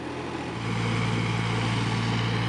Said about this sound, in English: And there goes the tractor